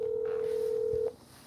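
A telephone gives a steady, loud single-pitch dial tone that cuts off abruptly near the end as a call is placed, leaving quiet room noise.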